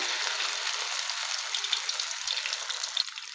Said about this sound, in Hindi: अब इसमें हम डालेंगे जो हमारे अंडे के कटलेट्स बने हुए हैं। इनको हमने शैलो फ्राई कर लेना है।